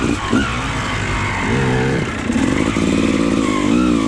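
A Honda CRF50 dirt bike engine revs and drones continuously, rising and falling in pitch as the bike rides, loud and close with no talking.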